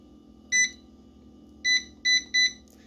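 An air fryer beeps as it is set to 400 degrees: one short electronic beep, a pause, then three quick beeps in a row, loud and clear over a faint hum.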